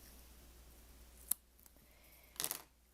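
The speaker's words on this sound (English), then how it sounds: "I'm going to cut the yarn" Scissors cut through yarn at the end of a Tunisian crochet slipper, giving one sharp snip followed a moment later by a brief rustling crunch against a quiet room.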